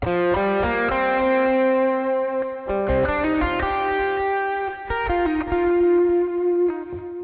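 Electric guitar played through an MXR Distortion Plus pedal into a Boss Katana amp, sustained overdriven chords and single notes ringing out, loud and close with no voices.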